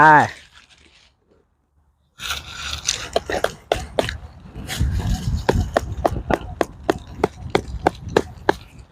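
After a short tone and a pause, a hammer drives a tent stake into the ground outdoors with repeated sharp knocks at a quickening pace, close and loud, with rustling and scraping between blows.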